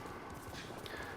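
Black horse's hooves in the video game Ghost of Tsushima, a quick run of clip-clop strikes at a steady trotting rhythm, close and continuous, with no talk over them.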